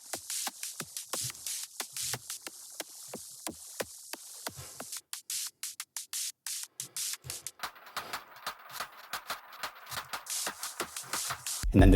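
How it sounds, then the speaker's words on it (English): Layered top percussion from a drum machine preset: a busy run of crisp, shuffling hits and noisy ticks in a steady electronic groove, thinning briefly mid-way before a denser, hissier section returns, with no voices. "I just call it like top percussion."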